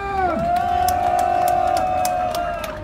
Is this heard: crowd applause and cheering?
yes